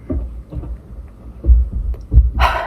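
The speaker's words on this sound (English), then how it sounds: "there's like people walking above me" Muffled, heavy thuds of footsteps on stairs overhead, landing at an uneven pace, with a brief hissy rustle near the end.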